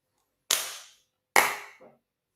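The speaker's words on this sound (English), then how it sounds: "know about your neighborhood, Tarek, but do the fireworks go off when the Dodgers win?" Two sharp firework bangs go off a second apart, each decaying quickly, followed by a faint softer pop, heard from a distance with no talk.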